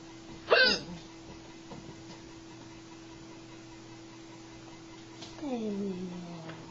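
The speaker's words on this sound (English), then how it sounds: "Don't hiccup now." Someone hiccups indoors in a hot room: one sharp, loud vocal hiccup early on, then quiet room hum, followed by a softer falling voiced sound near the end.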